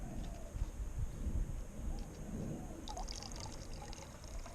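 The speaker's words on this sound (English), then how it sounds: "I get rid of this dirty water" Dirty water poured out from a container after sieving through a fine square mesh, a quiet continuous trickle and splash with soft dribbles and light clatter, no voices.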